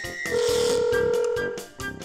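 Mobile phone ringing unanswered, a repeating electronic ringtone with a sustained melodic tone and rhythmic pulses, fairly loud and alone.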